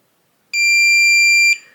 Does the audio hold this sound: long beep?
yes